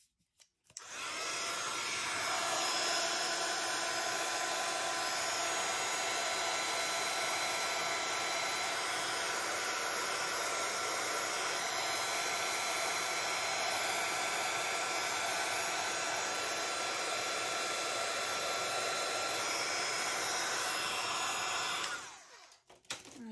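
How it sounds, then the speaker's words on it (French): Hair dryer blowing over a Halloween art journal page, a steady loud whooshing roar that starts abruptly, holds unchanged for about twenty seconds, then cuts off. "Je vais sécher un petit peu."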